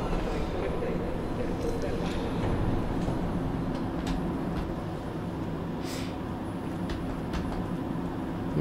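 A train rumbles steadily inside the Metro Last Light video game, a continuous low rolling drone with faint rattling and no pauses.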